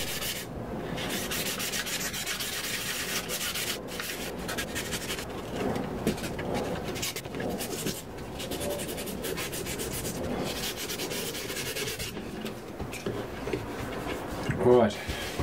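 Sandpaper rubbing along the grain of a wooden rifle stock on a sporter rifle, a steady scratchy stroking texture that continues throughout, with a brief louder scuff near the end.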